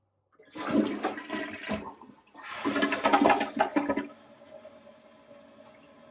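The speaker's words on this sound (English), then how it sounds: "As we can see, the toilet is now flushing properly." A household toilet flushes after a fill valve repair, with a loud gurgling rush of water in two surges, then a quieter steady hiss as the tank refills, with no talking.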